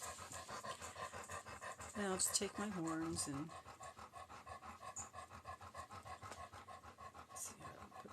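A dog pants steadily and rapidly close by throughout. Someone talks quietly over it for a moment.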